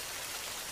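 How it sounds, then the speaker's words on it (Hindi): Steady rain falls in a dense, continuous patter, even and fairly loud throughout with no voices over it. "हाय रे, ये बारिश तो रुकने का नाम ही नहीं ले रही है।"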